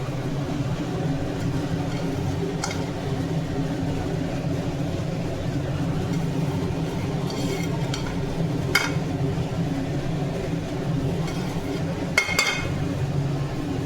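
Chow mein noodles with eggs are stirred in a pan, giving a steady low kitchen rumble with a few brief scraping clinks of utensil against the pan.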